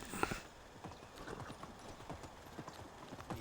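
A horse's hooves clip-clopping as it is ridden in the video game Medieval Dynasty, a quiet steady trotting rhythm of light knocks with a brief snort near the start.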